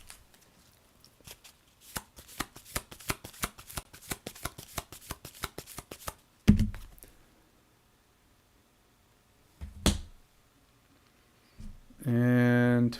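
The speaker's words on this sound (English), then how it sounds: "we got to shuffle her cards back up" Frosthaven board game cards are riffle-shuffled in a rapid flutter of crisp snaps for several seconds, then a couple of soft taps and a tonal hum close out the sequence; no one speaks.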